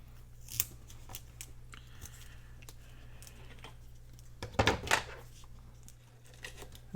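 Scissors snip through paper for a collage journal page, a string of close, crisp cuts scattered across the moment with a denser cluster of snips near the end, over a faint steady hum and no talk.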